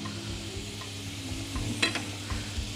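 Onions frying in a pan with wine and a bay leaf, with a steady close sizzle and some stirring and scraping, plus a couple of sharper clinks near the end; no talking.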